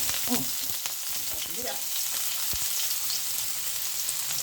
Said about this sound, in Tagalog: Lagay na natin yung bawang sibuyas.